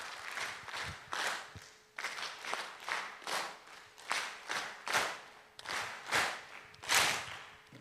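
Audience at a conference closing ceremony clapping in a structured counted pattern, bursts of applause in groups that shrink and swell rhythmically, fairly close and lively.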